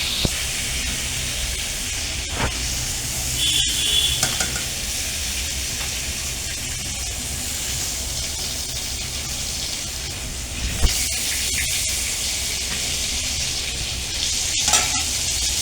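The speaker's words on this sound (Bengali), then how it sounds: "সব মাছগুলো এভাবে আমি ভেজে নিয়ে আসি" Shrimp fry in hot oil with a loud, continuous sizzle and hiss, broken by a few knocks and scrapes of a utensil against the pan.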